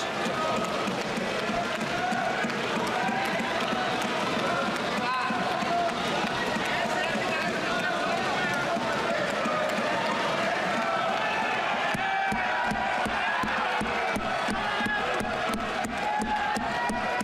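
A large crowd at a political rally claps and cheers for railway employees, a loud, dense roar with rhythmic clapping that turns sharper and more staccato toward the end, with no clear speech over it.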